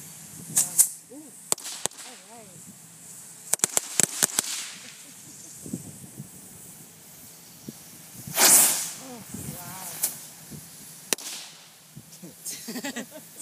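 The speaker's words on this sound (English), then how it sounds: "We're starting the fuses." Fuses burning on a model plane rigged to blow up, giving scattered sharp cracks and pops, a loud hissing burst midway, and further bangs, with people's voices in between.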